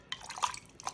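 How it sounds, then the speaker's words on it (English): Chicken broth pours into a crockpot for an easy dinner, giving a short run of light dripping, splashing liquid sounds at a close, moderate level, with no talking. "I'm gonna put a little bit of the chicken broth in there"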